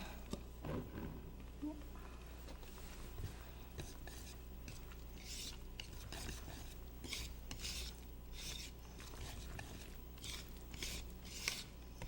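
Flour for vegan chocolate chip walnut banana bread is whisked in a bowl, with soft continuous scraping and rasping and light clinks of the whisk against the sides, close and quiet amid low background hum.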